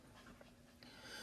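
A dog pants and snuffles faintly in the background, soft breathy panting with a small whimper-like sound, quiet and brief with no talking.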